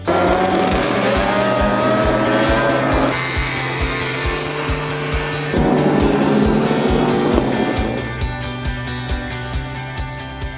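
Loud Grand Prix racing motorcycles, including 500cc machines, scream and rev close by at a classic bike event, pitch rising and dropping sharply between gear changes as they roar past.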